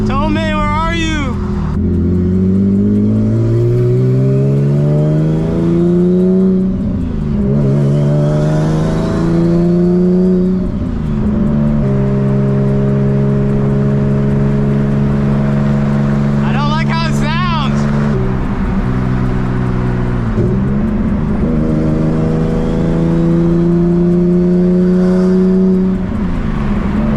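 A Nissan Z car engine revs repeatedly on its first drive, a loud, close drone rising and falling through gear changes, with talk over it in places.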